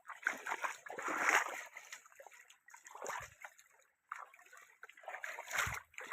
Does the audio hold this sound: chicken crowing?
no